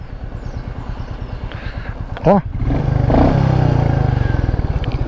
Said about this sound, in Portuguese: Escapamento original, galera. Não tem ponteira, nada diferente